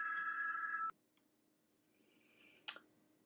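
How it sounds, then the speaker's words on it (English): A landline telephone rings with a steady electronic tone that cuts off abruptly under a second in, followed by near silence and a brief sharp click or clatter, with no talk. "I can't make the landline stop ringing."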